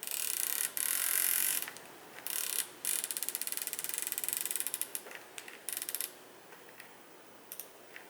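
Turrets on a Leupold Mark 6 3-18x44mm riflescope click through rapid runs of crisp detents, close and distinct, in bursts with short pauses and a few slower single clicks at the end.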